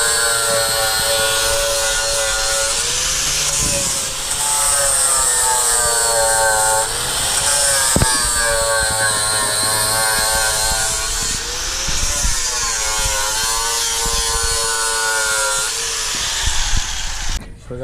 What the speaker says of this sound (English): So when I'm grinding, I'm just going like this, trying to grind it smooth, not trying to dig into it